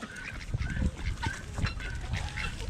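Farm ducks and geese honk and quack in a busy, overlapping chorus close by, a continuous run of nasal calls over several seconds.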